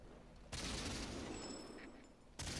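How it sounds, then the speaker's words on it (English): Rapid machine gun fire from a tank in World of Tanks roars as one loud, continuous burst lasting about two seconds, then briefly drops away before resuming. "this is like literally using a machine gun"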